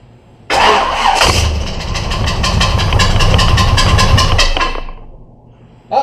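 A car engine that had sat unused cranks on a new high-torque mini-starter after a spritz of starting fluid, a loud rapid rhythmic churning for about four seconds that catches briefly and then dies away, with no talking.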